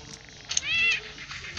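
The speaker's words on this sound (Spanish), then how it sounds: "Tengo a mi gato" A pet cat meows in the video game Pixel Gun 3D, a single short, clear cry set against quiet game background sound.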